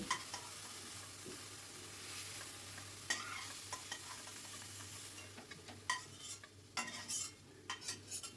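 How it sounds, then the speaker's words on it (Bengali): Food being stirred and fried in mustard oil in a kadai gives a steady soft sizzle, with spatula scrapes and knocks that grow more frequent and pronounced toward the end. "দেড় থেকে দু মিনিট ভালো করে এটাকে নাড়াচাড়া করে নেব"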